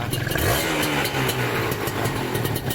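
A carbureted Serpico 150 SE motorcycle fitted with a PDK exhaust runs close by, its engine burbling with a steady throaty idle and slight rhythmic pulsing, alone without speech.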